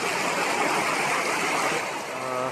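Heavy monsoon rain and floodwater rushing through waterlogged Alibag streets, a steady loud broadband wash of pouring and flowing water with no breaks, easing slightly near the end.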